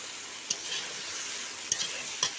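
Malabar spinach fries with turmeric and salt in a pan, giving a soft steady sizzle broken by three sharp spatula scrapes and taps as it is stirred.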